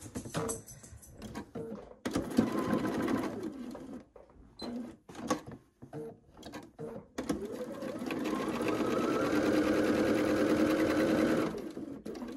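A sewing machine stitches a quilt seam in short bursts, stopping and starting with pauses between runs, then a long steady run of whirring stitches, while a person speaks in the gaps.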